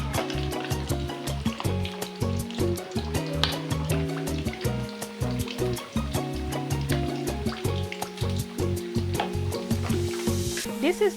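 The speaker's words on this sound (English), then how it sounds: "Fry the unseasoned fish until they're golden and crisp" Unseasoned tilapia deep-fries in hot oil, a constant close sizzle and crackle with bubbling and occasional stirring, alone and fairly loud throughout.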